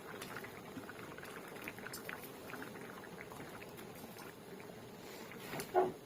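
Tadka dal bubbling at a boil in a pot, a quiet steady patter of small bursting bubbles throughout, with one slightly louder plop near the end.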